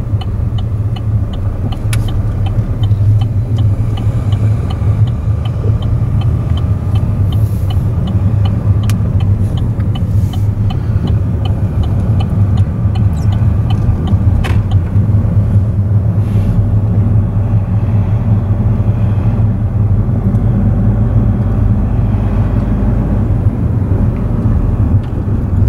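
Driving school car climbing a hill with light throttle on a test route in Nuremberg, a steady, loud engine and road rumble from inside the cabin, without talk.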